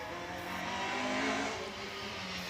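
A 2.6 litre Vauxhall Chevette racing up the Shelsley Walsh hill climb roars at full throttle, a loud, steady engine note holding close and sustained throughout, with no talking.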